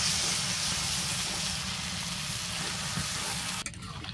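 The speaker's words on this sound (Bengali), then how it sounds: "এই পাশে অঙ্কনে কাকা মাংসগুলো কষায় নিতেছে" Meat sizzling and frying in a pan while being stirred, a dense continuous hiss close up that cuts off near the end.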